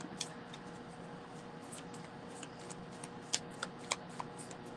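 Moonology oracle cards being handled, shuffled and pulled, a faint soft riffling and sliding with a few light taps and flicks, close by in a quiet room.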